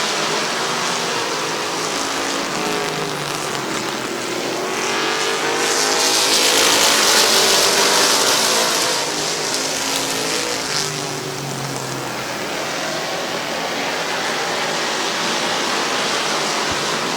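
Race cars roaring around Midvale Speedway, a dense continuous engine drone swelling louder as the pack sweeps past mid-way, then easing back to a steady distant roar with no voices.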